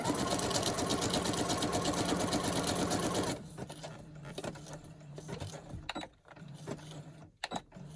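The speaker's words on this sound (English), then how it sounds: "Just want a zigzaggy stitch down there." A sewing machine running a zigzag stitch on a junk journal, a loud fast mechanical whirr for about three seconds, then stopping, followed by quieter handling rustles and clicks.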